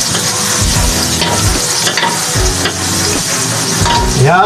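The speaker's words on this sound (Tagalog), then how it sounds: "ayan po ay nagpainit na tayo ng ating kawali. Nilagyan po natin ng konti lang po na butter." Butter or margarine sizzles loudly in a heated frying pan, a close, constant crackle broken by the scrape of stirring and a few utensil clinks against the pan, with no talking.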